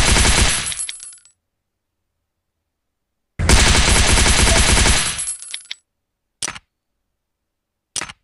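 Gunfire in the survival video game Last Day Rules: Survival, heard as two long, loud automatic bursts followed by two short, sharp shots after pauses of silence. No one speaks.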